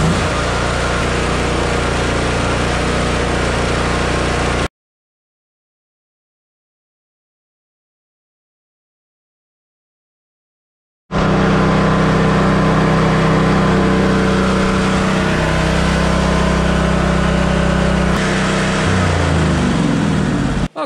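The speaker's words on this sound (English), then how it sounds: "I'm gonna boost the machine and get it started." A generator engine runs steadily after being boost-started, a loud continuous mechanical drone that cuts out to silence for several seconds and then resumes at full strength, with a slight shift in tone near the end.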